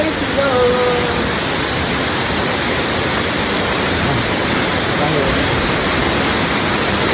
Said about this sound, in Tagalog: naririnig ko na yung agos ng falls